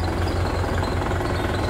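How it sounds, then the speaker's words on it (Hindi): An old Mahindra tractor with a Kubota engine of around 45 horsepower runs at a low, even idle, a steady close throb with a slight knocking pulse and no voices. "भाइयों इसकी कुबोटा की आवाज़ सुनेंगे, आवाज़ बहुत कम है ट्रैक्टर की, देखियो कितनी प्यारी आवाज़ है।"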